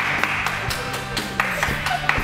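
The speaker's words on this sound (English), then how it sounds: "If the audience could stop clapping now" Scattered, irregular claps from a small audience at a casual sports-themed show, sharp taps spaced a fraction of a second apart over a steady background hum.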